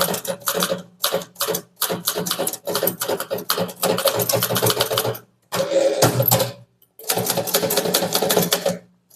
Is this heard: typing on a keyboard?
yes